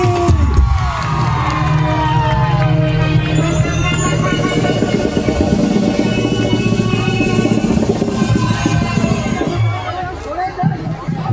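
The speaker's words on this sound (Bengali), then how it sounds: "আপনাদের সকলের প্রিয় টুসু আপনার জোরে হাতে তালি।" A live stage crowd cheers, whoops and shouts in a loud, sustained swell of babble as actress Tusu comes on, the din holding steady before easing near the end.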